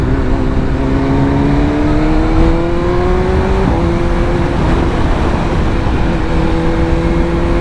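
Loud exhaust of a 2023 BMW M1000R motorcycle drones and climbs in pitch as it revs, holding a steady roar throughout with no voices.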